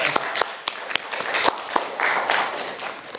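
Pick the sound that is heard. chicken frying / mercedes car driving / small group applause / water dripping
small group applause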